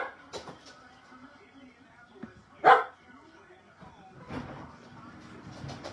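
A small, yippy 13-year-old dog lets out a few scattered yips and barks indoors, one sharp bark louder and closer than the rest, with quieter stretches between.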